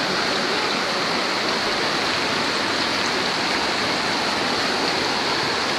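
Floodwater pours steadily and loudly over a street near a bridge, a constant broad roar like a torrent flowing close by.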